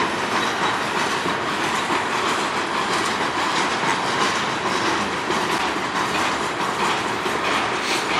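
A freight train led by three locomotives rolls past near Sarnia, Ontario, a loud, continuous rumble of wheels and cars with steady clatter and no talking.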